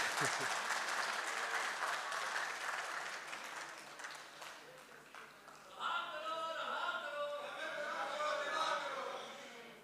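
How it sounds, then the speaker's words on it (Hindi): An audience at a poetry conference in Islamabad claps steadily and fairly loudly throughout, with the applause swelling and brightening midway before tapering off at the end. "तो आप भी तालियां बजा के इसके साथ हो जाएं।"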